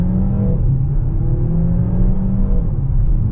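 A 2021 Peugeot 3008 GT hybrid SUV with 300 horsepower accelerates hard in sport mode. Its engine note climbs steadily in pitch and stays loud and close throughout, with no talk.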